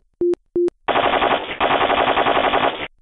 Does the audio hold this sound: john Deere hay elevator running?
no